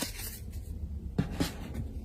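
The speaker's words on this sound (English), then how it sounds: "Let me shuffle my decks here a little bit" Tarot card decks being shuffled by hand: soft papery rustles with a couple of brief, sharper riffling bursts near the middle, quiet and close, with no talking.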